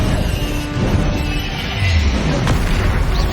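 A Confringo fire spell blast in the video game Hogwarts Legacy, a loud, low booming burst with crackling debris that rumbles and swells, then hits a second, sharper impact near the end.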